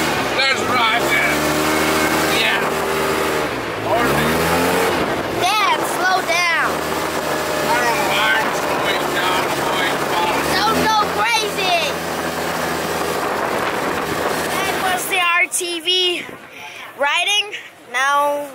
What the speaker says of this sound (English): Whoa, my dad's driving the ATV.